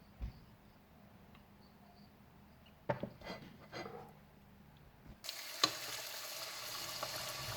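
Quiet clatter and a few knocks, then a loud, steady sizzle of potatoes dropping into hot oil in a pot, bubbling to the end.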